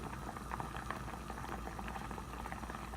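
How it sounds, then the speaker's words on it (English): A pot of tomatoes bubbles at a steady rolling boil, a continuous low gurgling hiss with no talking. "we can see that it's boiling"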